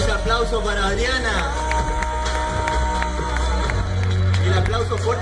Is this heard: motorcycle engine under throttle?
no